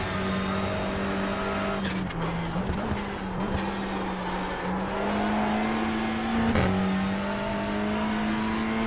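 A touring race car in the iRacing simulator at Knockhill, run in reverse, drones steadily through a lap, its engine pitch dipping and climbing through gear changes and corners, loud and continuous with no one talking.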